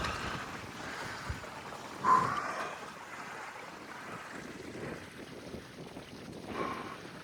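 Gusty wind buffets the microphone in low rumbling waves on the summit of Mount Washington, with a brief louder gust partway through and no voices.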